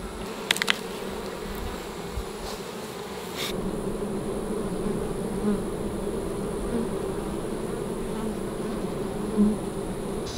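Honey bees buzz steadily around an open hive during a honey harvest, a continuous close droning hum with a few faint clicks near the start and no voices.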